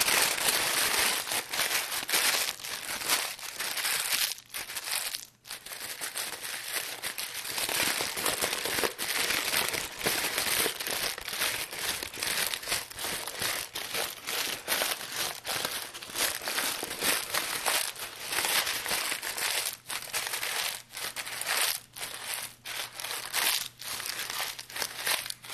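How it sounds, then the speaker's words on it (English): Parchment paper being crumpled and wadded up by hand: dense, continuous crinkling and crackling with sharp snaps, loud and close, no talking. "fighting with this parchment paper because it keeps popping back out, we're going to wad it up"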